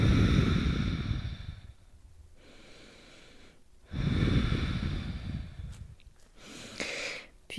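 Slow, deep breaths during a power yoga pose, two long airy exhalations separated by quiet pauses, close and clear, with a few faint rustles near the end.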